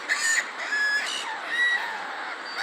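Seagulls calling repeatedly from a ramp where they gather, a series of shrill, nasal cries close by, one overlapping another at a steady moderate loudness with no talking.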